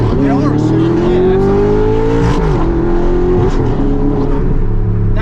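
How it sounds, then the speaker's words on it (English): An Audi R8 engine revs hard and climbs in pitch, then drops with abrupt gear shifts and downshifts. The roar is loud and close, with no talk over it. "That shift is like, It's brutal, especially the downshift."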